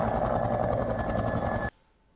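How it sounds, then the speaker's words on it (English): A firefighting helicopter filling its water bucket in a lake during the Sundance Lake wildfire east of Chetwynd, with a steady, close rotor and engine drone that cuts off abruptly. "This is video of a helicopter loading its bucket in the lake."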